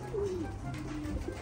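Homing pigeons at their loft give soft, low cooing calls, two short rolling coos close by over a steady background hum.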